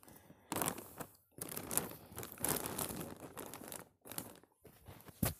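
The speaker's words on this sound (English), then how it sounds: "I've got scissors. Let's see. I'll go ahead and cut it open" Plastic package bag from a ranch merchandise unboxing being cut open with scissors and handled, giving loud close crinkling, rustling and snipping in bursts with short pauses, no talk.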